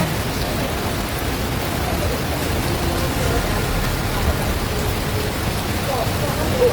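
Heavy rain pours at night during a major flood in Lebong, Bengkulu, as a loud, dense, unbroken wash of noise that stays constant throughout.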